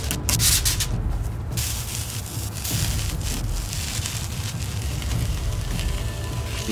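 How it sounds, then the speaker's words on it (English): Hot steam hisses steadily from a steamer used to style a Jack Sparrow wig, a continuous broadband rush close by with no voices. "Be careful of that hot steam too."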